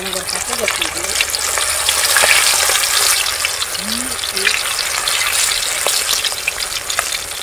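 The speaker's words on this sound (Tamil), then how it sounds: "நல்லா எண்ணெய் காஞ்சி வச்சு திருப்பி விட்டுக்கலாம்." Quail pieces fry in hot oil in a village kitchen, giving a steady, loud sizzle and crackle throughout, with occasional stirring sounds as the pieces are turned.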